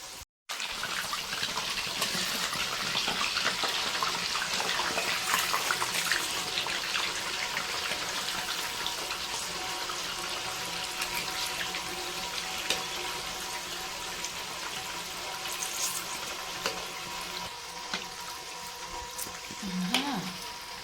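Malpua fry in hot oil with a long, steady, hissing sizzle that stays fairly loud and even for about twenty seconds, broken only by a faint knock near the end.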